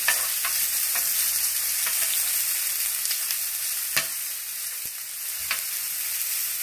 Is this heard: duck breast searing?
yes